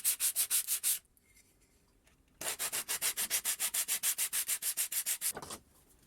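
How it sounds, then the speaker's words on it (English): Quick rhythmic sanding strokes rasp back and forth on a CNC-machined part, a short burst, a pause of about a second and a half, then a longer fast run of strokes. "followed by some sanding."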